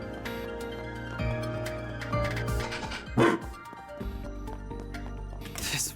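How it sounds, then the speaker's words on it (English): A robot dog in the video game Trails Through Daybreak barks and yips in short bursts over layered game music, with a whimper-like cry near the end. "This Robo Mud acts like a real-ass dog."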